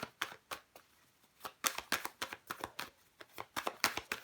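Tarot cards being shuffled, a rapid run of crisp riffling snaps and papery flutters in uneven bursts, close up and fairly quiet with no talking.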